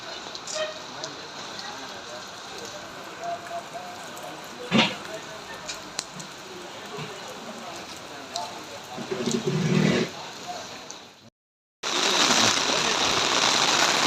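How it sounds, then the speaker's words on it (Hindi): Heavy rain falls steadily in Dubai as a dense, even hiss that runs nearly the whole time. There is a brief gap near the end, after which the rain returns louder and closer. A voice speaks over it at points. "प्यारी प्यारी रेन है बारिश।"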